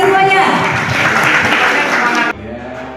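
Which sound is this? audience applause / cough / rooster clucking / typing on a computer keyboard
audience applause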